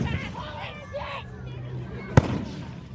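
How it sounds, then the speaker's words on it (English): Canada Day fireworks boom outdoors, one sharp loud burst standing out after a crowd murmur and a voice talking close by. "We can even hear it booming this time, really loudly here."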